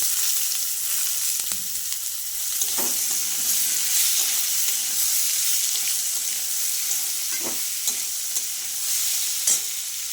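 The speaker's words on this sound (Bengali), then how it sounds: "রসুনটা একটু ভাজা ভাজা হয়ে গেলে আমি ওলটা দিয়ে দিচ্ছি" Elephant foot yam fries with crushed garlic in a pan, giving a continuous hissing sizzle broken by occasional sharp clinks and scrapes of stirring, with no talking.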